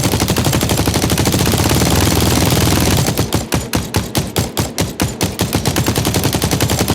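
Automatic gunfire built as a synthesized game sound effect, a loud rapid burst of shots in quick even succession, dense at first and then separating into distinct sharp cracks with short decaying tails, no voices.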